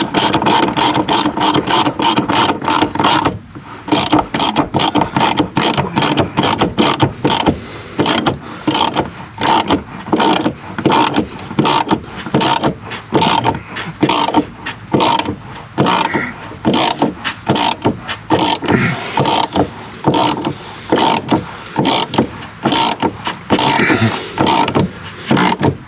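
A ratchet wrench clicks fast and steadily on the cab mount bolts of a 1995 Dodge Ram 2500 truck, loud and close, in repeated runs of rapid clicks with short pauses between strokes.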